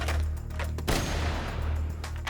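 A sniper rifle fires in the Dead Rising video game, one sharp, loud shot cracking out midway over a dense, continuous bed of game background noise.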